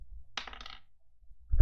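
A die drops onto a hard surface with a brief clattering burst, followed by quiet and then a low thump at the very end.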